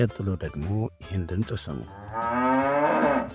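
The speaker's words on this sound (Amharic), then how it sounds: "ወተት የምትሰጠው ላም ናት" A cow gives one long, drawn-out moo after a voice speaks briefly.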